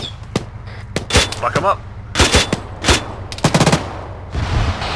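Bursts of gunfire from ArmA 3 crack out in clusters of sharp, loud shots with brief gaps between them, mixed with shouted voices.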